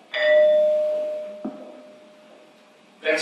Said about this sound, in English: You realize that this thing really rings like a bell and it reverberates for quite a long time.